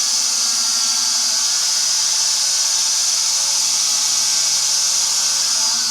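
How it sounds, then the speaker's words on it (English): An angle grinder cuts off the old keel bolt studs on a 40-year-old lifting-keel trailer sailer, a loud, close, steady high-pitched whine and grinding hiss that runs throughout. "So I'm just going to commit with the angle grinder now, just cut them off."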